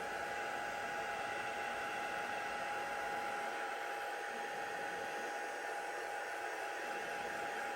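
A craft heat tool on a gentle setting blows a steady, even whoosh of hot air over an embossed card, a constant close hiss without talk.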